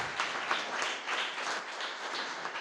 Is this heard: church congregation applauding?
yes